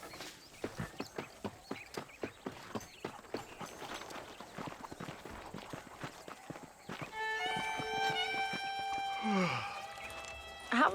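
Horse hooves in Red Dead Redemption, a steady clip-clop of walking footfalls for several seconds, moderately near, then giving way to other ambient game sounds near the end.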